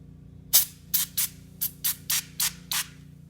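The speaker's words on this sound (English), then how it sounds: "you're going to have to spray it on there and let it sit for about 5 minutes" Cleaner sprayed onto a car engine bay: eight short, crisp hissing spritzes from a trigger bottle, evenly spaced and close, over a faint low hum.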